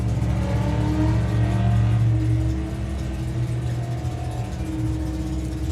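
A Mustang drag car accelerating hard down the strip, a loud deep engine roar with a steady rising drone that holds close and sustained, no talking over it.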